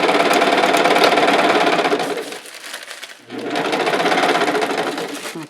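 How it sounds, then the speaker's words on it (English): A sewing machine back-stitches over vinyl on a hanging organizer, a loud close steady motor hum running for about two seconds, pausing briefly, then resuming in a second run. "be sure to back stitch over the top"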